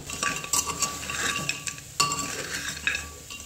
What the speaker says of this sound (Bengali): এবার সমস্ত উপকরণগুলোকে খুব ভালোভাবে মিক্সড করে নিচ্ছি।